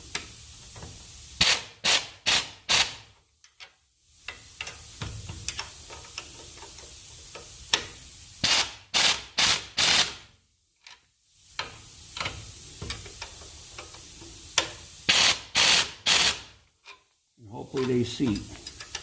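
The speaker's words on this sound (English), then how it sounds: "My ratchet rocket." An air ratchet tightening exhaust bolts on a Ford F-350 custom stack exhaust, working in loud repeated bursts with short pauses between them and a quieter background in the gaps.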